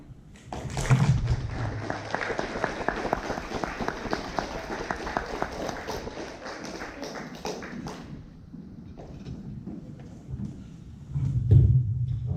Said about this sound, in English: Let's give another nice round of applause to our holding team and first resolution.